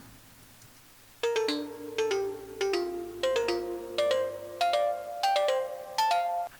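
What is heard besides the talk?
DX7 synth with the Mileto mallet preset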